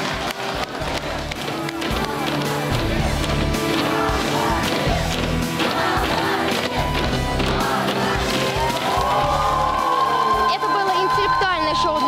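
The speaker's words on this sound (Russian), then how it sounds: "И мы провожаем Георгия аплодисментами." A studio audience on the game show Один против всех applauds as a contestant is seen off. Dense clapping and cheering fill the room alongside show music, loud and sustained.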